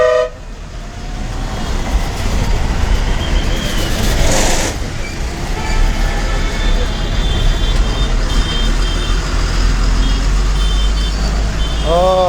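A bus on the Tenali–Tippalakatta route pulls away along a busy market road, its engine rumbling close amid steady traffic noise, horn toots and a reversing-style beeping near the end.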